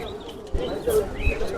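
Pigeons at a pigeon market giving soft, low coos close by, mixed with market murmur and people talking over them.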